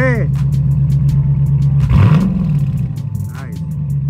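Dodge Challenger R/T with 100,000 miles idling with a deep, steady rumble, then revved once in a loud surge that falls back to idle, while people talk nearby.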